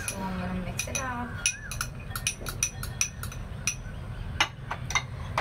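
Spoon clinks and scrapes against a bowl while green gram and soaked peanuts are mixed into a salad, irregular clattering taps close by, with a brief voice near the start.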